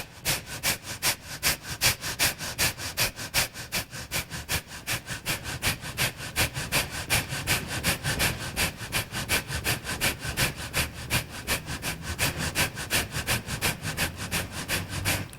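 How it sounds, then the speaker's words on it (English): Rapid, forceful nasal breathing in yoga's breath of fire sustains an even, fast rhythm of sharp exhales throughout, close and steady, with no talking. "and begin breath of fire"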